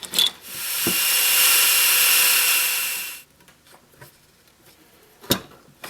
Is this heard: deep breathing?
no